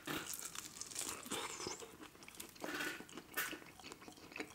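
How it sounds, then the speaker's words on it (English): Close, crackly crunching and chewing of crispy buffalo wings, continuous bites with crisp snaps throughout, no talking. "Wow, their wings are crispy."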